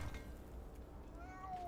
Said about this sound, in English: that's a cat by the way